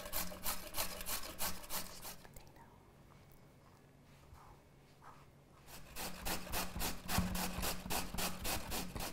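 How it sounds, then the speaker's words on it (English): A sweet potato is rubbed against a grater in rapid rhythmic rasping strokes, close and crisp, with a pause in the middle before the brisk scraping resumes. "So we're going to grate our sweet potato."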